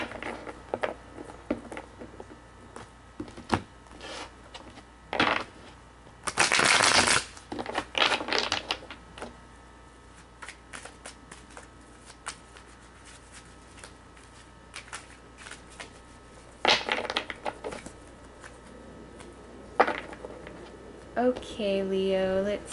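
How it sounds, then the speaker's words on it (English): Tarot cards are shuffled by hand in several short, crisp riffling bursts separated by quiet pauses, close and fairly soft, ending with a brief tonal sound. "So let me just shuffle."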